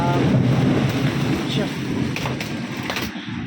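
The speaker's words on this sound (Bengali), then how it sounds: "আর কি সুন্দর ঝুঝুর করে বৃষ্টি হচ্ছে, এখনও থামেনি" Heavy rain pours steadily during a thunderstorm, a dense loud rumble and patter close by, with a voice speaking over it.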